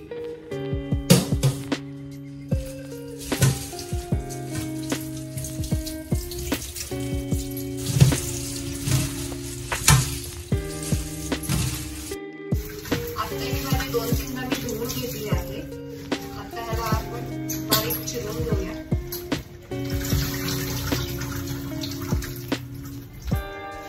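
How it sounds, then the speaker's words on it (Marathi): Bharangi leaves are washed in water, with running water, splashing and handling of the wet leaves in irregular bursts that stop briefly midway, under background music. "आता याला आपण धुवून घेऊया स्वच्छ"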